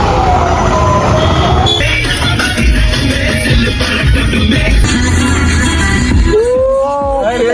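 An ambulance siren wails through busy road traffic with buses and lorries, a loud, continuous rumble of engines and noise, with the rising siren tones clearest near the end.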